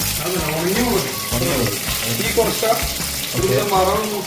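Chillies and curry leaves frying in hot oil in a pan for sambar, a close, continuous crackling sizzle, with voices talking over it throughout.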